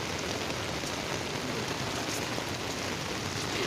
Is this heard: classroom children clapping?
no